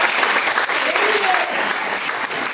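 A congregation at a Methodist church harvest festival claps loudly and continuously, with voices mixed into the applause.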